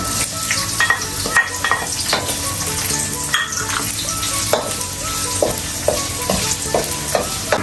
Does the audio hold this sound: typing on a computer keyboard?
no